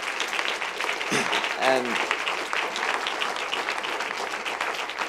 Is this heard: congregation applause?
yes